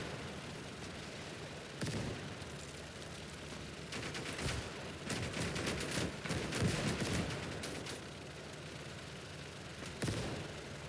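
Heavy mortar blasts and bursts of gunfire from the World War II game Call to Arms: Gates of Hell, USSR campaign. Loud, overlapping explosions and rattling shots come in irregular waves over a constant battle rumble.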